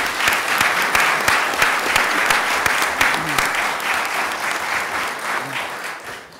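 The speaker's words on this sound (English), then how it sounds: "Let's give them a round of applause again." Lively audience applause at a governor's press event on reforms protecting people with special needs, dense clapping that swells and then gradually fades out over several seconds.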